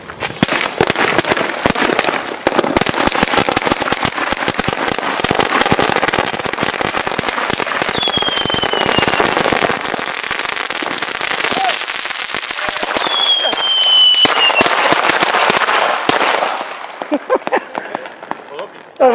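Fireworks batteries firing in Italy: a long run of dense, loud rapid bangs and crackles with whistling shots, tapering off near the end, with people talking.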